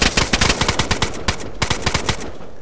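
Rapid automatic gunfire in the video game DayZ, a loud close burst of evenly spaced shots that keeps going for almost three seconds with no voices.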